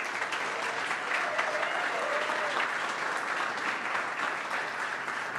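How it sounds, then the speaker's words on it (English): A demo-day audience applauds for Megan, a continuous, dense clapping from many people at steady volume, with a faint voice briefly audible underneath. "I'd love to give her a round of applause."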